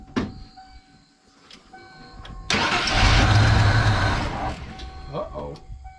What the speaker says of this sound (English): Crank cut off immediately.